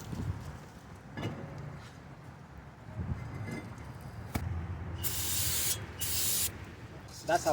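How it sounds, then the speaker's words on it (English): Brake cleaner sprayed from an aerosol can onto the front brakes of a 2018 Lexus NX 300 during a pad and rotor job, two short hissing bursts near the end after quiet workshop handling noises. "That's a brake cleaner, by the way."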